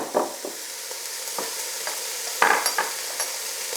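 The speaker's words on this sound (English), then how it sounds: "Now what we can do is to add in the rosemary and the thyme, and also we've got the celery and the carrots. So get it all in there." Rosemary, thyme, celery and carrots go into a hot stew pot of ox cheeks, giving a soft sizzle with scattered scraping, stirring thumps and a louder clatter near the middle, no talking.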